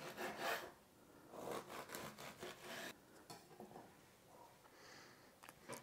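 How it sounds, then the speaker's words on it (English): A knife saws a slice off the overly dark end of a Duivekater, a sweet Dutch Easter loaf spiced with cardamom and nutmeg, with faint, repeated rasping strokes in uneven bursts. "So now I'm gonna cut off a slice on the side that is a little bit too dark."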